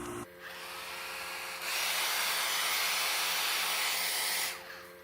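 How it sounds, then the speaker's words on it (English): A blow dryer blasts hot air onto crayons on a pumpkin to melt them, a steady loud whoosh that jumps higher in power partway through, then drops back near the end, with no talking. "you'll see the blow dryer on here, and you'll see the crayons start to melt."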